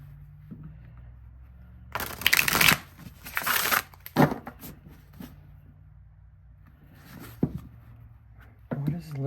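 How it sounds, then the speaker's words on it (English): Two bursts of card shuffling, a riffle then a bridge-like flutter, followed by scattered taps and quiet handling; later faint riffles return near the end. "Let me just shuffle these a couple of times."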